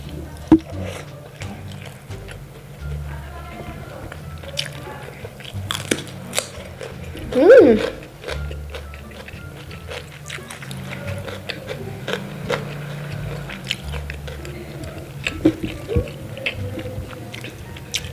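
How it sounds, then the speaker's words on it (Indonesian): Close, wet chewing and occasional crunchy bites while eating balado chicken liver and gizzard with tempe penyet and rice, soft squishy mastication throughout with brief quiet talk in between. "sebenarnya makan tempe penyet pakai nasi itu sudah mantep pol"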